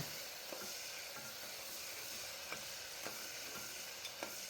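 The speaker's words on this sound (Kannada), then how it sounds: "ಈರುಳ್ಳಿ ಹಾಕ್ತಿದ್ದೀನಿ ಮೊದಲಿಗೆ ಈರುಳ್ಳಿ ಒಂದು ಸ್ವಲ್ಪ ಫ್ರೈ ಆದಮೇಲೆ" Onion frying in a pan for vegetable pulav makes a soft, continuous sizzle, with faint, scattered ticks of stirring against the pan, quiet and steady.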